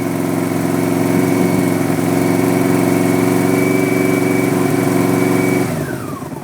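A 1984 Yamaha Venture motorcycle engine revs while warming up, a loud, close, steady mechanical drone that eases off near the end.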